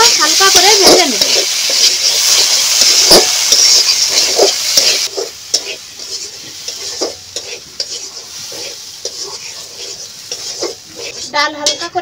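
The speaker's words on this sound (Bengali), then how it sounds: "এখন আমি ডালগুলো হালকা করে ভেজে নেব।" Masoor lentils with turmeric fry in a kadai, giving a loud, close sizzle for several seconds that then settles into quieter frying, punctuated by repeated spoon-on-pan scrapes and clinks.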